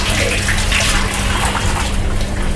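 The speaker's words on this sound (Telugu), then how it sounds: "నీరైతే రావట్లేదు ఆ పక్క నీళ్ళు రాలేదు ఈ పక్క వస్తున్నాయి" Water gushes steadily from a tap at a hand-wash basin, a loud, close, continuous splashing rush without pause.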